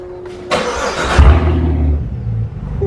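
A 2020 BMW S1000RR motorcycle with a carbon subframe, started warm rather than cold: a starter whir followed by the engine catching and settling into a loud, steady idle close by.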